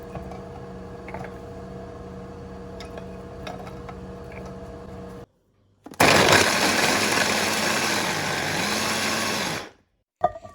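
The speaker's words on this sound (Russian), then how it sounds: "В блендер также отправляю пару зубчиков чеснока, стакан грецких орехов и измельчаю все." A kitchen blender chops celery, cilantro, basil, garlic cloves and walnuts in one loud, steady whirring burst of about three and a half seconds that stops abruptly, after a quieter stretch of low background hum.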